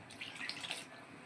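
Water poured into a pan of chicken curry as it cooks, a faint, brief hiss-like splash over quiet kitchen background.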